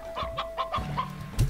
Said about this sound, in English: A briar hen. A real white bird that loves to ramble in the bramble.